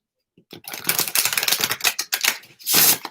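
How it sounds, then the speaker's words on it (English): A deck of cards is shuffled close up in a quick burst of dense, crisp riffling clicks, with a brief pause and a final louder flutter as the cards come together. "I'm going to shuffle these again real quick."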